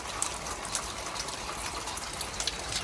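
Water drains from a caravan at a French country house in Burgundy, a steady rushing, hissing flow that stays even and fairly loud throughout with no talking.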